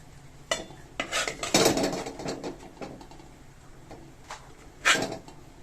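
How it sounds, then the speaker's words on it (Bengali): A metal plate set into a wok preheated on a gas burner, giving a few clattering metallic knocks and scrapes, one loud clank near the end, with no talk. "এরপর এই থালাটা আমি এই কড়াইতে বসিয়ে দেব"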